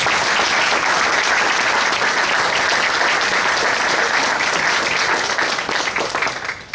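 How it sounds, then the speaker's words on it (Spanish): Loud, sustained applause from an audience welcoming the invited guest at a book presentation, a dense wash of clapping that fills the whole stretch before tapering slightly at the end. "Pido un fuerte aplauso acá para nuestro invitado."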